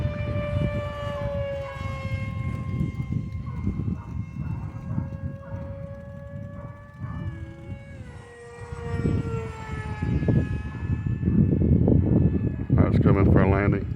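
A model airplane's engine whines with steady, shifting tones as it comes in to land after its elevator stopped responding, while a person talks over it and the pitch drops and wavers near the end.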